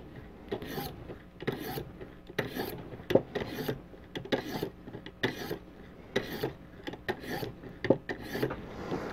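A knife blade is drawn over the finer oiled stones of a ViperSharp sharpener, giving steady rhythmic rasping strokes, about a dozen close passes in quick succession with no talk.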